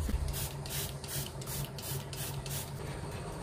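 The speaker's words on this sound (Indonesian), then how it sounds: "Siapkan air di semprotan untuk menyemprot ini roti ya sebelum dibakar" Water is spritzed from a spray bottle onto bread before it goes in the oven, a series of about eight short hissing bursts in quick rhythm, close and fairly quiet.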